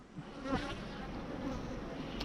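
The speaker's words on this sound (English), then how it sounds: "the majority of the bees that are active at the moment are from the hive next door" A steady, soft buzzing of honey bees hovering close by near a hive, a continuous drone with slight rises and falls.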